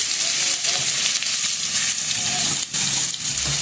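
Spices and chopped garlic frying in mustard oil in a pan, a loud, dense sizzle that crackles steadily throughout with a brief dip near the end, alone without talk.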